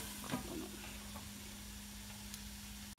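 Prawn cutlet mixture sizzles steadily in a pan over medium heat for a prawn croquette, a constant close fizz with a few soft stirring knocks, ending in a sudden cut.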